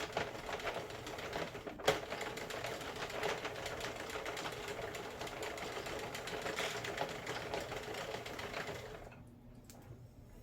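A Sentro knitting machine works steadily through a neck warmer, its rapid mechanical clatter running evenly for about nine seconds before stopping and leaving near silence.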